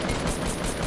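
A single sniper rifle shot fires in the Fortnite video game, a loud, dense burst of noise lasting under a second.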